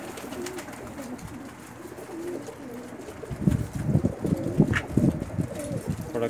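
Pigeons from a prized breeding pair coo in soft repeated rolling calls, growing louder and busier midway, with faint talk and background noise around them.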